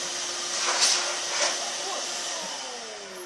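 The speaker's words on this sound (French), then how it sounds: "on va attendre que monsieur arrête de jouer avec l'aspirateur" A household vacuum cleaner runs close by with a loud, steady whine and hiss, swelling briefly twice as the nozzle shifts.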